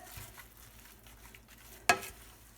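Kale with kosher salt being stirred in a pot: soft, quiet scraping and a faint sizzle, then one sharp clink of a utensil against the pot near the end, with no talking.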